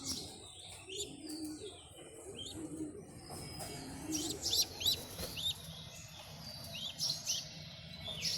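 Pet pigeons of chocolate and related colour varieties coo softly in a loft, with scattered chirps and light rustling movement over a quiet background, fairly faint and steady throughout.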